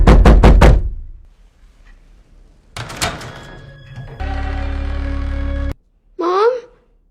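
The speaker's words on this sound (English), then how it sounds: "he dreams of hearing loud knocking on his bedroom door as it slowly creaks open by itself" A loud series of four rapid knocks on a bedroom door opens the clip, then fades into quieter sounds, an electronic tone and a short rising squeal.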